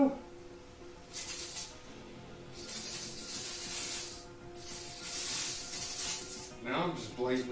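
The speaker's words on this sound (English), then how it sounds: "Now I'm just blatantly spraying brake clean anywhere I want" Aerosol brake cleaner hisses in several close, sustained bursts with short pauses between them during a forged Subaru WRX engine build in a garage.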